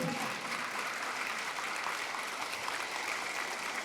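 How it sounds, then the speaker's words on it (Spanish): Church congregation applauding, a steady, even wash of many hands clapping at moderate distance for a few seconds without pause. "Fuertes aplausos a la palabra del Señor."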